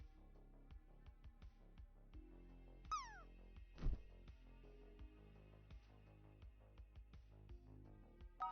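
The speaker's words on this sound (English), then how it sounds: "So that's the sound my kitties make when they see a birdie outside." House cats chattering at a bird outside give a few faint, quiet chirping calls over soft scattered clicks and low background noise.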